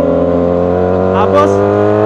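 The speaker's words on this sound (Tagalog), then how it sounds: "So downshift tayo, downshift, rev matching." A manual car's engine blips and revs during a downshift with rev matching, a steady loud droning hum that rises briefly in pitch, with a voice talking over it.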